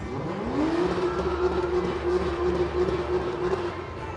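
Aston Martin cars crawl in a queue during the New Year parade in Westminster, London, a steady engine drone with a rising note settling into a sustained hum, low idling rumble beneath and faint voices in the crowd.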